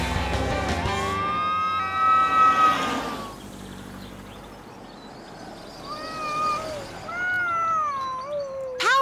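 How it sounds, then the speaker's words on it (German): Cartoon cat meowing while stuck in a tree, a drawn-out rising and falling cry early on, then a series of shorter wavering meows later, with a siren-like tone mixed in near an emergency call in a children's animated show. "Dort steckt eine Katze im Baum fest."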